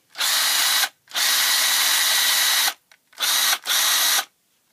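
A retro Black & Decker power drill runs in four bursts, a steady high whine spinning up and cutting off with short pauses between, close and loud with no talking.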